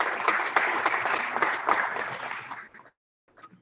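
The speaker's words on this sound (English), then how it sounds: "I'm going to give her a round of applause" A short round of applause from a small group, steady clapping for about three seconds, then a voice begins speaking.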